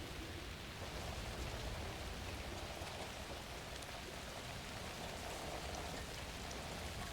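Steady, even rain falls in Alan Wake 2, a continuous soft hiss with no talk over it for about seven seconds.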